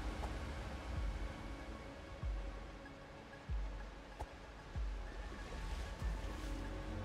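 A waterfall in the video game Tunic gives a steady, broad rushing roar that fills the whole clip, with a few soft thuds on top and no one talking.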